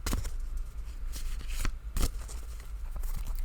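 Tarot and oracle cards shuffled by hand: a continuous crisp riffling and flapping with sharper snaps now and then, close and steady, with no talking.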